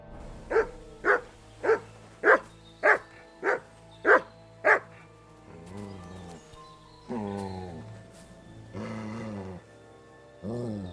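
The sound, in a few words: dog Mutt barking in the video game Kingdom Come Deliverance 2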